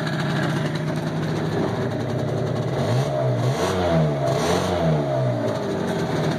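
A Scoot Coupe custom reverse trike with a Vespa 50cc or 150cc motor revving up and down in a series of close, buzzy throttle blips over a constant small-engine drone.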